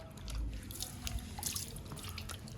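Fresh herbs rinsed under a running kitchen tap, giving a steady close hiss of flowing water with scattered drips and splashes throughout, no talking.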